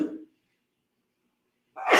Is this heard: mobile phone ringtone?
no